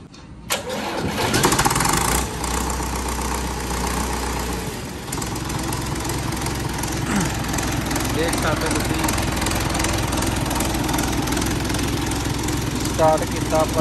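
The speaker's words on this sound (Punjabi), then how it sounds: "ਤੁਹਾਨੂੰ ਸਟਾਰਟ ਕਰਕੇ ਦੁਬਾਰਾ ਫਿਰ ਦਿਖਾਉਣ ਲੱਗੇ ਹਾਂ ਜੀ।" A restored Bailaras tractor engine cranks and catches, then settles into a steady, chugging idle nearby, with a person talking over it.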